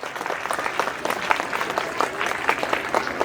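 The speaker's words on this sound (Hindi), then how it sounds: "तालियां और जोर से." Audience applause at a school award ceremony for a best-student award, steady crowded clapping throughout with no break, moderately loud and close.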